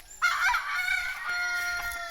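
A yellow-legged gamefowl stag crows once, loud and near, a drawn-out cock-a-doodle-doo that trails off over about two seconds, with no talking.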